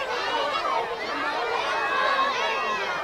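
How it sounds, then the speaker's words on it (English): Children at an elementary school in Austin cheer outdoors while watching a solar eclipse, a dense and continuous crowd of excited young voices close by. "It's not every day that you get kids cheering for the sun"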